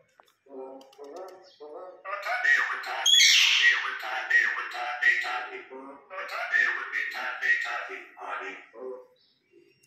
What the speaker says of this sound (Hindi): ये हमारे दोस्तों मैना की आवाज़ थी